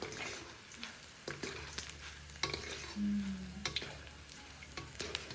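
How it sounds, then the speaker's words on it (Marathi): Soft, steady sizzling of food frying gently in ghee on a low flame, with occasional stirring clinks and scrapes nearby, no talking. "असं कमी गॅसवरती तळून घ्यायचा"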